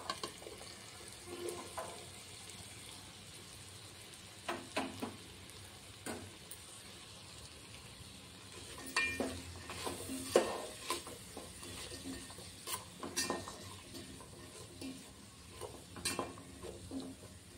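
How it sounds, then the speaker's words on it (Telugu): Cut vegetables fried with softened tomato pieces in a pan for lunchbox rice, a steady low sizzle running throughout with occasional scrapes and clinks of a stirring spoon against the pan. "మనం కట్ చేసి పెట్టుకున్న ఈ వెజిటేబుల్స్ అన్నిటినీ ఇందులో వేసుకొని వేయించుకోవాలి"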